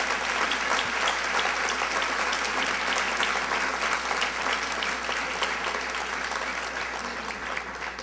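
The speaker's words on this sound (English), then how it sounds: "please give Christina a round of applause" Dense, sustained applause from a large crowd at a winter sports awards ceremony, loud and even throughout with no pauses.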